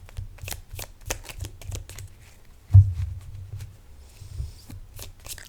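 A tarot card deck is shuffled close up in quick, crisp riffling bursts with a soft thump midway, and no one talks.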